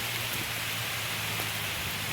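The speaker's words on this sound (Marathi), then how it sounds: "पाऊस कसलो लागता बघा जोरात, मिरगासारखं पाऊस लागता" Heavy monsoon rain pouring down as a steady, dense hiss with no break, no voices, in the Konkan countryside.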